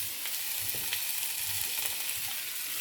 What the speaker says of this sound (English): And then as this cooks, the rice will break apart. Add a little bit of sesame oil.